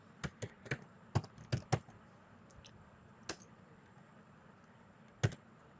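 Computer keyboard keys clicking in a quiet room, a short run of sharp taps followed by a few scattered keystrokes, faint and close.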